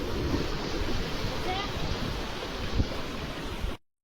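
Sea waves wash steadily along a coast where hills come close to the water, a broad, continuous surf roar with some wind noise that holds throughout and then cuts off abruptly.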